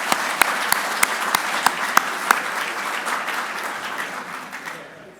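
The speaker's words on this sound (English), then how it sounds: "So once again, a round of applause for the people of India itself." Audience applause at a leadership summit in Washington, D.C., dense clapping with several loud, sharp individual claps up front, gradually thinning and fading away by the end.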